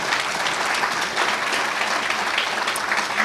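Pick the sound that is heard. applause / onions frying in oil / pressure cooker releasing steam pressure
applause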